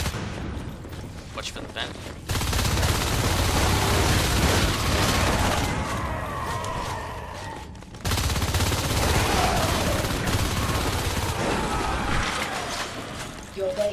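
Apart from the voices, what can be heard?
gunfire from marines shooting a harvester in Natural Selection 2 video game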